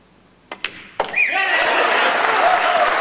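Spectators at the 2013 World Pool Masters 9-ball final between Niels Feijen and Darren Appleton: a couple of sharp knocks, then a swelling burst of crowd applause and cheering that holds loud to the end.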